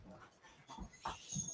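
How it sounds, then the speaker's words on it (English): Dogs growling in short, low, rumbling bursts, fairly quiet and close, with faint breathy panting between them. "They're growling instead."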